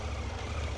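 KTM 790 engine in a 2023 CFMOTO Ibex 800T motorcycle running steadily on a woods ride, a close, continuous low rumble with no voices.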